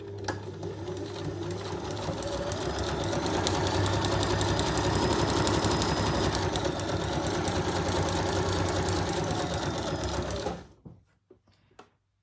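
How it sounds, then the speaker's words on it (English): A sewing machine stitching a zigzag on paper, a steady close mechanical whirr with rapid needle clatter running about ten seconds before stopping abruptly. "now I want to do a zigzag that catches the whole side"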